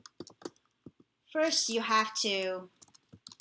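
Typing on a computer keyboard: scattered sharp key clicks in short bursts before and after someone speaks briefly, close and fairly quiet.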